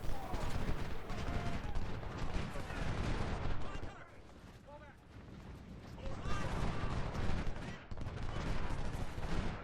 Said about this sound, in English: yeah, my artillery's right there. My Napoleons, doing what they do.